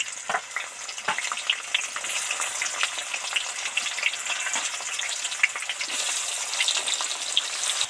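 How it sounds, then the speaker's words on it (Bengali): Sliced onion shallow-frying in hot oil, a dense continuous crackling sizzle with occasional stirring scrapes, close and loud with no voices. "পেঁয়াজটা এবার ছাকা তেলে ভেজে নিচ্ছি।"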